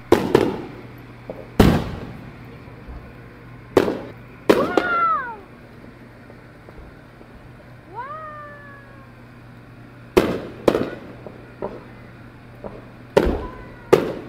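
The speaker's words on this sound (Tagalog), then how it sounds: "First time nila na ma-experience yung fireworks" Fireworks burst at scattered intervals, sharp loud cracks and booms with whistling, descending trails in between, set against a low steady hum.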